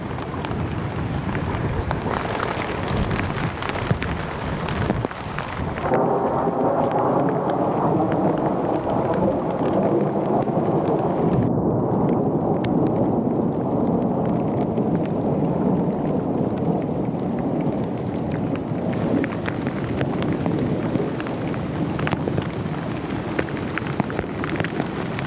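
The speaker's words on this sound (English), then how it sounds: "heavy rain and sharp lightning strikes surrounded her tent" Heavy rain pounds steadily around a tent during a thunderstorm, with deep rolling thunder rumbling through the dense, continuous downpour; no voices.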